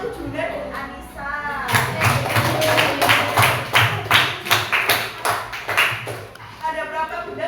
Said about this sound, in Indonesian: tepuk tangan untuk Juna dan Anissa